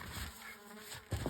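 Angry honeybees swarm and buzz loudly around an opened winter hive, a dense close droning with a sharp burst near the end.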